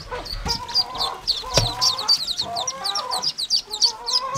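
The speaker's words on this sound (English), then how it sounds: "Ducklings." A brood of seven ducklings peeps in quick, high, overlapping chirps close by, with a few louder calls breaking through the steady chatter.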